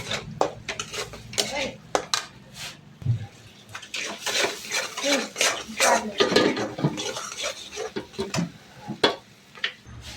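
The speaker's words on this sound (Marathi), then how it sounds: "छान असं मिक्स करून घ्यायचं" A spoon stirs chilli powder, black masala, turmeric and salt in a cooking pan for Hotel-style shahi paneer, giving repeated scraping clinks of metal on metal in an uneven rhythm, with soft voices nearby.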